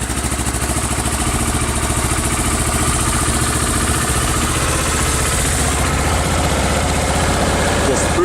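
A just-started motorcycle engine idles at close range, a steady loud rumble with an even, unbroken pulse and no one talking over it.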